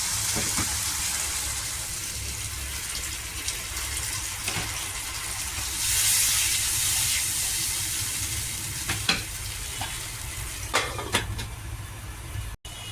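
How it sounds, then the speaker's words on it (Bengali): Bhetki fish curry gravy simmering in a covered pan, a steady low bubbling and sizzle with a few soft clinks and taps now and then. "এবং ঝোলটা কিন্তু কি সুন্দর ফুটে গেছে"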